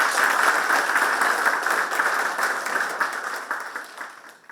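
Sustained crowd applause at a party caucus general meeting, dense and steady clapping that slowly fades toward the end.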